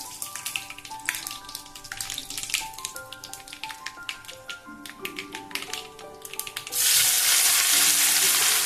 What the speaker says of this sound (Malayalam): ഇതെല്ലാം കൂടെ നല്ലോണം ഒന്ന് ഇളക്കിയതിന് ശേഷം നമ്മൾ കട്ട് ചെയ്ത് വെച്ചിട്ടുള്ള നാരങ്ങ ചേർത്ത് കൊടുക്കാം.